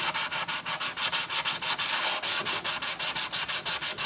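Rhythmic back-and-forth sanding of filler on the roof of a German mantel clock, steady close strokes repeating quickly with no talk.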